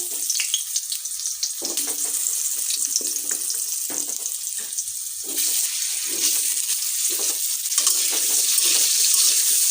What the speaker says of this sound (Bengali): আলু ভেজে নেবো লাল লাল করে